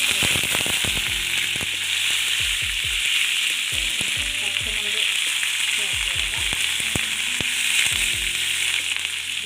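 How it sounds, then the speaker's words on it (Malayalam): Mustard and fenugreek seeds crackle and pop sharply in hot oil over a steady sizzle, irregular snapping bursts close by throughout. "ഉലുവയും കടുകെല്ലാം നന്നായിട്ട് പൊട്ടിയിട്ടുണ്ടെങ്കിൽ"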